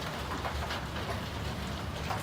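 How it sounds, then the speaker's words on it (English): Rain patters steadily on a roof, heard from indoors as a soft, even hiss of drops throughout. "You can hear the pitter-patter of the rain falling on the roof in here"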